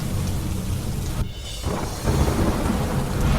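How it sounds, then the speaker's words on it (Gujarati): Heavy monsoon thunder rumbles loud and close over steady rain, briefly dropping away before the downpour surges back harder on the surface. "ભારે ગાજવીજ સાથે એકાએક પડ્યો વરસાદ."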